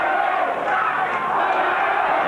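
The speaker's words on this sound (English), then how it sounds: "And the crowd starting to chant out here in the outer." A rugby league stadium crowd chants during a 1982 semi-final at Lang Park, a loud, dense roar of many voices that carries on steadily without a break.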